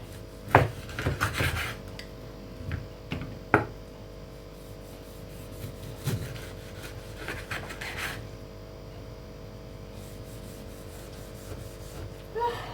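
Blunt knife cutting ginger and citrus fruit into quarters on a board, scattered close thuds and scraping rubs with a few sharper knocks, quiet between cuts, no talk.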